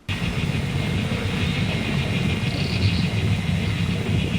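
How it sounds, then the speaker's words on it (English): A deep, steady train-like rumble fills the background of the film Begotten. It is loud and unbroken, with a broad low roar and a faint hiss above it, and no one speaks. "why does it always sound like there's a train in the background?"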